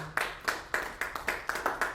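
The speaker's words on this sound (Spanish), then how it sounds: "Un aplauso fuerte al Señor." Rhythmic clapping from a church congregation praising the Lord, steady beats roughly every quarter second, moderately near and fairly quiet, with no talk over it.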